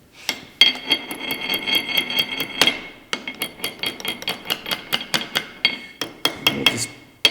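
Repeated metal hammer blows flattening a nut during restoration of an International Farmall Super H tractor, sharp ringing strikes in uneven bursts, close and loud with no talk.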